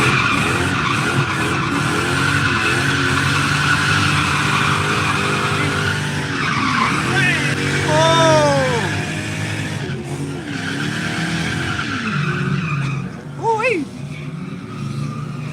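A Mazda MX-5 drifts at Norfolk Arena during a practice day, its engine revving hard and tires squealing and skidding through long slides, loud and close, with people talking over the noise.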